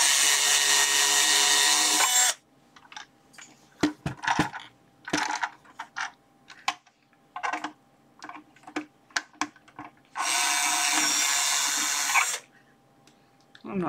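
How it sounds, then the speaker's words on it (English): A powered screwdriver running in reverse to back screws out of a resistor box, whirring in two long loud bursts at the start and end, with clicks, taps and handling noises between them. "Let's pull these screws out."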